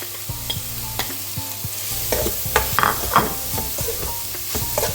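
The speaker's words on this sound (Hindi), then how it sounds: "अब सेम कढ़ाई में हम मावा डाल देंगे भूनने के लिए" Mawa being roasted in a kadai over a medium flame, with soft frying sizzle under repeated scraping and stirring strokes from a spoon, close and clear, with no talking.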